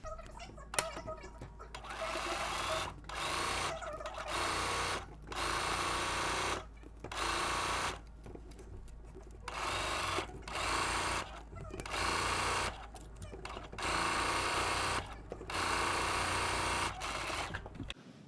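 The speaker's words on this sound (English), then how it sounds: "I'm just going to sew around at the sewing machine first 5/8" A sewing machine stitches a sleeve seam at 5/8 inch on a vintage-style top, running in repeated bursts of fast whirring separated by short pauses, close up, with no one speaking.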